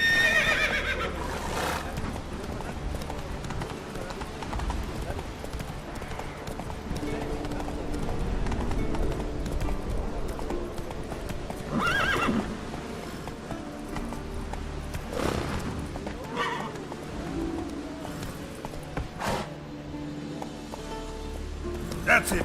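The horse Roach in The Witcher 3 video game neighs and whinnies while its hooves clip-clop steadily at a walk, heard over continuous game ambience, with a person talking over it throughout.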